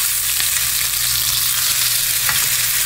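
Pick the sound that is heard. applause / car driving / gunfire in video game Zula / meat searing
meat searing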